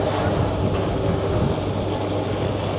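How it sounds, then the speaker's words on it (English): Steady, loud low rumble of big ferry engines on a Crete to Santorini express jet vessel, a continuous droning hum with wind noise on the microphone and no talk. "It's big, the engines are rumbling."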